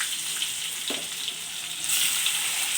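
Onion frying in a pan with curry leaves for a capsicum usili, a continuous close hiss and sizzle with a brief clatter as pieces drop in.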